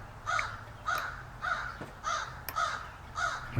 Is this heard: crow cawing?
yes